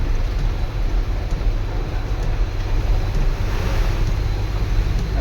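Canal water flows steadily through a forest settlement during rain, a continuous broad rushing wash with wind-like noise, loud and unbroken with no voices.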